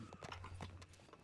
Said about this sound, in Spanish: Mire, ve ese caballote que está acá afuera.